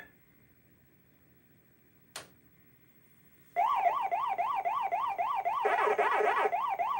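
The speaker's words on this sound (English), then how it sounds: "All the ghost sirens went out at once for like a second there." Electronic wailing of the ghost siren from a Pac-Man arcade game on a Halloween theme, cutting in loud and steady after a brief click and quiet stretch, with a harsher burst layered over it near the end.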